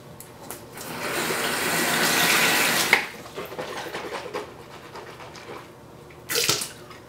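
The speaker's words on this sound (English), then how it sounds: "then I rinse my mouth again" Tap water runs steadily into a sink during mouth rinsing, a loud broad splash that stops around three seconds in, followed by quieter dripping, swishing and handling noises and a short burst of running water near the end.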